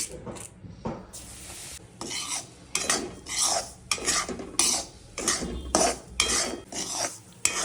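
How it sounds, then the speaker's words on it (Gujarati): Semolina roasting in leftover ghee in a kadai, stirred with a spoon in repeated scraping and rattling strokes against the metal pan, close and lively, with a faint sizzle underneath and no talking. "હવે બાકી વધેલા ઘીમાં આપણે સોજીને શેકી લઈશું."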